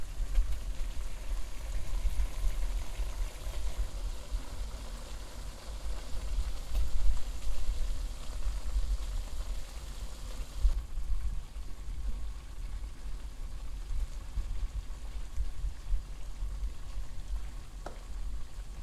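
Bulgogi, Korean marinated beef, sizzles with onions in a pan, a steady, continuous crackle with a low rumble and no talking.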